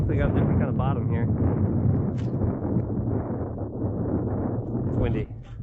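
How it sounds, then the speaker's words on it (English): Strong wind on a frozen lake during ice fishing roars and buffets the microphone nearly nonstop, a loud, rumbling rush with a voice speaking briefly through it. "It's windy."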